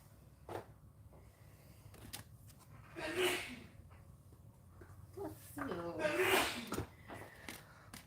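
Two sharp, breathy sneeze bursts a few seconds apart during a quiet Saturday morning live stream, fairly soft and close, surrounded by faint talking.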